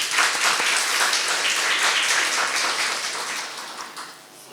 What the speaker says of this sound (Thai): เราปรบมือต้อนรับท่านดังๆสักครั้งได้ไหมครับ